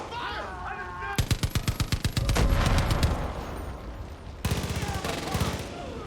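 Automatic gunfire in the video game Far Cry 5: rapid bursts of loud, evenly spaced shots, a sustained barrage, then another burst, all close and dense.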